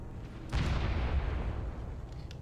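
Airstrike explosions in a video game land as a sudden heavy boom that rolls into a sustained low rumble, loud and close, with no voices over it.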